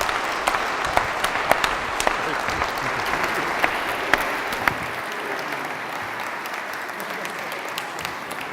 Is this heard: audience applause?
yes